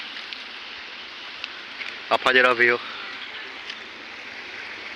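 Steady rushing of river water flowing through a small stream channel runs alongside a roadside stop, a constant broadband wash under a brief spoken phrase from a nearby voice.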